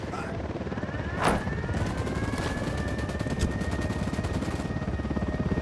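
Helicopter in the video game Ghost Recon Wildlands, a steady rotor thrum with rapid blade chop running throughout, joined by a sharp gunshot-like burst early on and game voices faintly underneath.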